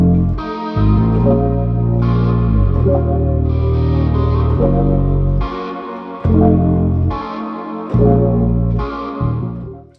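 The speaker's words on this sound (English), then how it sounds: "For this patch, just added some reverb and echo melt." Synth guitar chords drenched in reverb and echo ring out in sustained, swelling strums, each chord change arriving every second or two with a smeared, washing tail.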